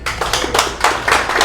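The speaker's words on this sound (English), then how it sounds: "Let's clap for Sonny." A brief burst of audience applause at a Tech Alley Vegas demo meetup, many hands clapping in steady dense rhythm for about a second and a half, moderately loud and close.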